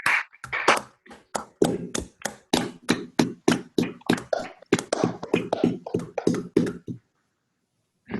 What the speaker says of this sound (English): thank you very much for this international round of applause